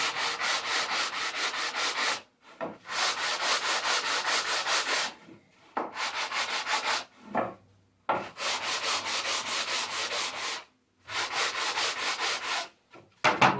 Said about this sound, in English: We do a little quick sanding on this.